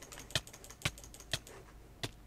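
Keys on a new computer keyboard clack in four separate, crisp strikes spaced at uneven intervals, close and fairly quiet, with no voices.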